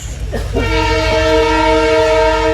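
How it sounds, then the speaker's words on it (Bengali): A train rumbles past close by with a steady low roar, and its horn sounds a long sustained blast over the noise. "ট্রেন যাচ্ছে"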